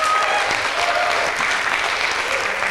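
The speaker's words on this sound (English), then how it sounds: "Please give her a big round of applause." An audience at a fireside chat event breaks into sustained, loud clapping that continues evenly throughout, dense and close, with no talking on top.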